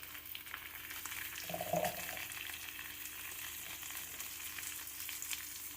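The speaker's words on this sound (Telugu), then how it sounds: "తీసుకున్న తర్వాత అడుగు మాడకుండా వీటిని వేపుకోవాలి ఇలాగా" Cluster beans (goruchikkudu) fry in a pan with a steady, soft sizzle and occasional stirring scrapes throughout, close and continuous with no talking.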